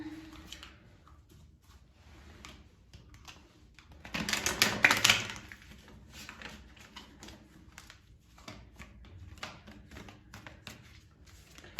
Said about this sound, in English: let me go ahead and start the shuffling